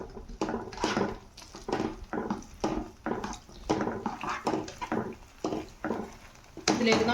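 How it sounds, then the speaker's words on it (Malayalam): A spoon stirs a thickening cauliflower sauce with diluted cornflour in a pan, making repeated close scraping and clattering strokes in a steady rhythm. "നന്നായിട്ട് ഇളക്കി കൊടുക്കുക."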